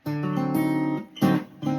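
A few bright strummed acoustic guitar chords of a song ring out close by, each sustaining briefly before the next strum.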